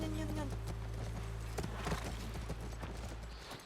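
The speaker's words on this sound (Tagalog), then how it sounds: "That's our horse." Horse hooves clip-clop in a steady rhythm in The Last of Us Part 1, layered over a low game music drone with occasional voice in the background.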